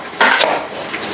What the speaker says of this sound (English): I'm just going to cut my sweet potatoes now into rings